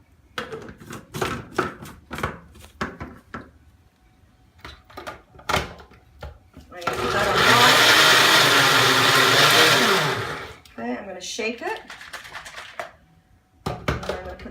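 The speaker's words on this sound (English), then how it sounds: "So now what we're going to do is we're going to blend that" A blender whirs loudly for about three seconds, pureeing coconut milk and tomato paste into a creamy sauce, set between scattered kitchen clatter, knocks and handling noises before and after.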